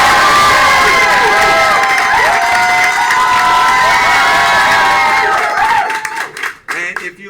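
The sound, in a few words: audience applauding and cheering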